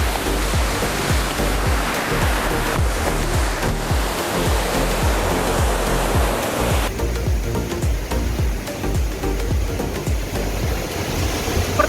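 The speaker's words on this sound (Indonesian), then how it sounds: "saya sudah sampai di air terjun Sringo-Ringo. Debit airnya ternyata sangat deras" The Siringo-ringo waterfall, about 50 metres high with heavy flow, roars in a loud, continuous broadband rush close by, steady throughout with no voices.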